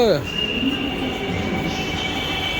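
A metro train rumbles steadily nearby at Charbagh metro station in Lucknow, a thin high wheel squeal running over the continuous roar.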